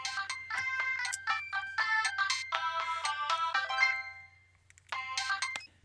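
A chiptune-style theme from Sonic & Knuckles plays as a phone ringtone, bright bouncy melodic notes in repeated phrases, a short pause, then the tune starting again, with a steady low hum underneath.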